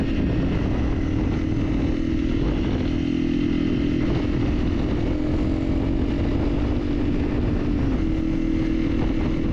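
A motorcycle engine drones at a steady cruising pitch during a ride through open New Zealand country near Lake Coleridge. The loud, unbroken hum runs throughout with no talk.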